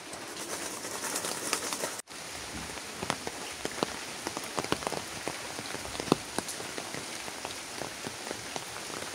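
Steady heavy rain pours down, a dense hiss with scattered sharp drops pattering on a surface, continuous and close throughout.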